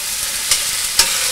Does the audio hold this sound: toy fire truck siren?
no